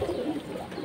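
Two pigeons held in hand coo softly and continuously, a low murmuring call close by; the birds are female Silver, Safchila and Jabra pigeons.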